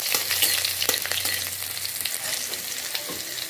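Garlic, onion, green chili and ginger sizzle and crackle steadily in a hot pan of oil, a dense close frying hiss with scattered pops throughout and no talk.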